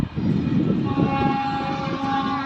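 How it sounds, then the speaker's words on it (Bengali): A train passes near a temple in rural Bengal, a steady rumbling roll of wagons with a sustained horn tone sounding over it, fairly loud and with no talk. "এই দেখো ট্রেন যাচ্ছে"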